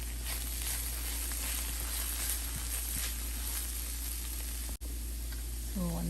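Sweet pepper palya frying in a pan, with chili powder and coriander powder being stirred in, gives a steady close sizzle and hiss throughout, with a faint scrape near the end.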